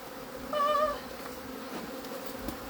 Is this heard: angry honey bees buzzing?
yes